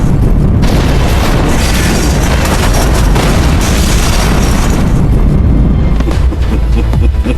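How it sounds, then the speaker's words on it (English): A massive explosion from a detonated explosive device booms loudly, followed by a long, rumbling roar of blast and debris that fills the whole stretch. "Boss Joe entered the password and detonated the explosive device."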